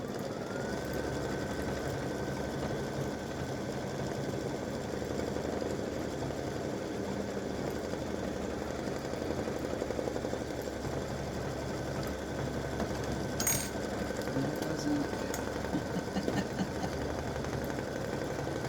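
An embroidery machine satin-stitches an appliqué elf hat design, a fast, even mechanical whirring and tapping that runs steadily and fairly quietly without pause, no voices.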